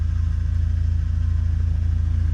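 A 2006 Volvo XC70 with a turbo 2.5 engine, new downpipe and full exhaust settles into a steady, close idle, its deep exhaust burble pulsing evenly with no voices.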